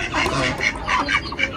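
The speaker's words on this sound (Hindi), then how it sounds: "छोटी बत्तख को बाहर निकालते हैं।" Small ducklings quack in quick, close, repeated bursts, loud and lively with no talk over them.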